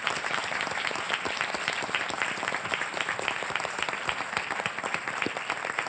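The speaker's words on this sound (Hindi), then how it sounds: "जोरदार तालियों के साथ मैं स्वागत करना चाहूंगा पिंक ब्रिगेड का" A crowd at an award ceremony breaks into loud, sustained applause welcoming the Pink Brigade women, a dense, steady wash of many hands clapping at once with no pauses.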